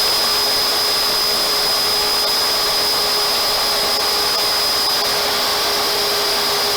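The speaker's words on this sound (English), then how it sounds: "I'm going to give it one more pass through the table saw" A table saw makes a final pass through a wood board during a 1905 cottage restoration, giving a loud, steady, close whine that drones unbroken throughout.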